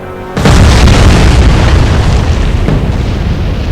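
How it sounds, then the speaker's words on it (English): A warship blows up and goes down in the naval strategy game Atlantic Fleet, a heavy booming blast that breaks in suddenly and rolls on as a dense, roaring rumble with no voices over it. "it's an explosive start. Battleship Anson has been sunk"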